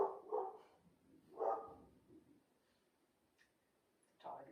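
A dog barks a few times, short and moderately close, in a quiet room during a home stretching workout, with pauses between barks and a faint voice nearby.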